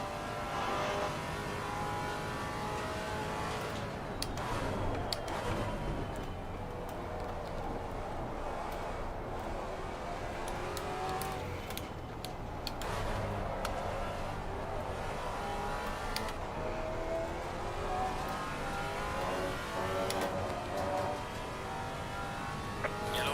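Race car engines in the video game Assetto Corsa Competizione during a four-hour race at Silverstone, a steady close engine drone rising and falling through gear changes and revs, with no talk.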